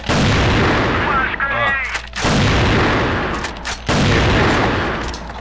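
Gunfire in the online shooter Crossfire, with loud rapid bursts and sharp repeated shots filling the scene, briefly interrupted by a short spoken word and a pause.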